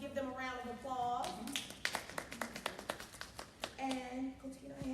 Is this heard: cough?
no